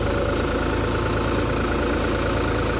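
A TT55 tractor engine runs steadily at about 1200 rpm while spraying cornfields, a loud, continuous low rumble with no breaks and no voices.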